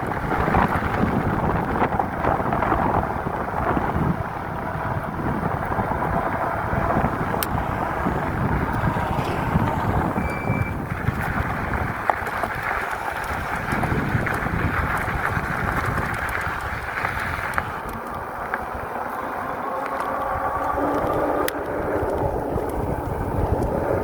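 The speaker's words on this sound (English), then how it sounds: "See, it was the wind slowing me down." Steady roaring wind buffets the microphone while a Swagtron electric bike is ridden outdoors, loud and continuous throughout, masking everything else.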